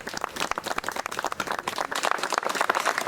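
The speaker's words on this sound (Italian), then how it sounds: "Un applauso." Audience applause at a Great War commemoration event in Italy: dense, irregular clapping from a crowd, continuous and fairly close throughout.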